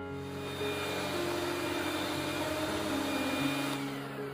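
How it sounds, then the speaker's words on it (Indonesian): Electric mixer kneading potato donut dough of flour, salt and ice water at low speed, giving a steady motor whir with slowly shifting tones that runs continuously and up close. "Mixer adonan hingga tercampur rata, gunakan speed rendah supaya nggak terlalu kencang."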